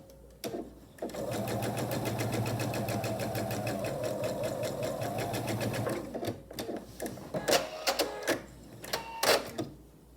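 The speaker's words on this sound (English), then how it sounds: "I'll take it to the machine and I'll sew right along here on my stitching line." Sewing machine stitching binding on a vinyl project pouch with wristlet, a steady close run of rapid stitching for about five seconds, followed by scattered clicks and handling noises.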